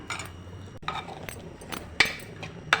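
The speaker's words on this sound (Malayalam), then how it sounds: "അപ്പം നമുക്ക് നല്ലതുപോലെ ഇളക്കി കൊടുക്കാം" Squid curry stirred in a metal pan after tamarind juice goes in, with a spoon scraping and clinking against the pan in a few separate strokes, fairly quiet and close.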